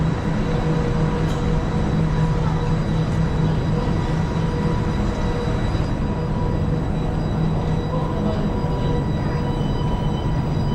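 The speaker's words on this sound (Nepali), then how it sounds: "यही हो हाम्रो ट्रेन" A train interior on an Italian rail journey fills the clip with a steady, loud rumble and hum of wheels and motors, continuous throughout, with no voices.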